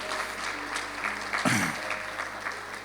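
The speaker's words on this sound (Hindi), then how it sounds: "जोरदार तालियां नए लोगों के लिए" Applause from a church congregation welcoming newcomers during a Hindi/Urdu sermon, steady clapping from a room full of people, with a voice briefly speaking over it.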